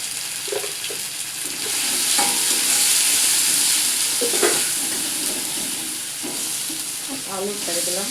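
Potatoes frying and being stirred in a pan with ground chili and cumin paste, a steady broadband sizzle with intermittent scraping stir strokes close by.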